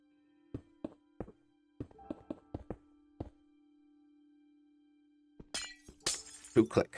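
Glass blocks are placed one after another in modded FTB Minecraft, a series of short, sharp clicks with pauses between them, followed by a brief burst of louder clatter at the end.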